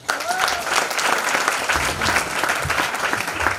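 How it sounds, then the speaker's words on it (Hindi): Enthusiastic audience applause at a group session after a participant raises a hand, continuous close clapping of moderate loudness with a few individual claps standing out. "इनके लिए जोरदार तालियां।"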